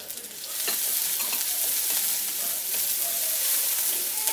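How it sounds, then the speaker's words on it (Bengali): Chopped ginger, garlic and green chilli sizzle in a pan for a vegetable egg omelette while being stirred. A dense, continuous frying hiss runs throughout with light scraping, and no voices are heard. "এক মিনিট মতো এটাকে একটু নেড়ে নিচ্ছি।"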